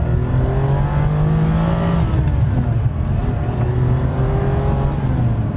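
The V12 of a 1999 Ferrari 550 Maranello drones loudly from up close as the car cruises, its tone rising and settling as revs change over several seconds, with no talk over it.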